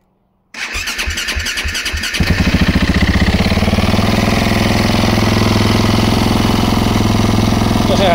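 A vehicle left unused for about a week cranks with rapid chugging for roughly a second and a half, then catches and settles into a loud, steady, close idle.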